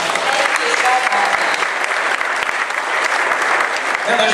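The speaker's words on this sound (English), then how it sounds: "Please let's give them another round of applause." Audience applause for the design judges at a fashion show, dense, steady clapping from a large crowd filling the whole stretch at a loud, even level.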